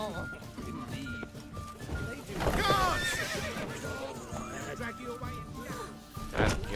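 Horse in The Witcher 3 gives a whinny amid clip-clopping hooves and game ambience, with voices talking over it.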